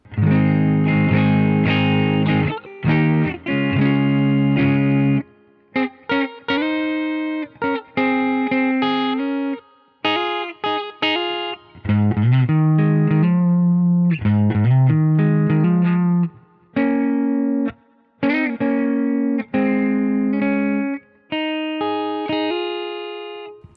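An electric guitar through a country-style Guitar Rig 7 amp plugin, with a bright, twangy tone, plays a melodic line of plucked notes and short chords, some ringing and some clipped, with no talking.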